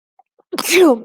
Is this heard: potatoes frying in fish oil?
no